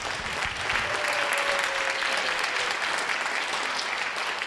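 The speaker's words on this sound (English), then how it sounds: "we owe a huge round of applause for Hannah" Audience applause for Hannah Curlee fills the room in a steady, dense wash of clapping from many hands, holding even and fairly loud throughout without a break.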